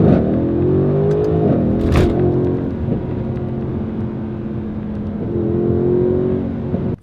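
A Mercedes-AMG GLC 63 S Coupe V8 exhaust rumbles and revs, rising in pitch then settling to a throaty idle before revving again, loud and close.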